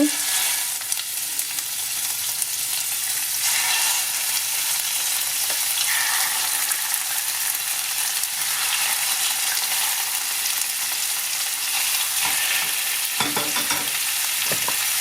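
Pork rolls with egg frying in melted fat in a pan, a loud, dense, unbroken sizzle close up, with a few faint clinks near the end.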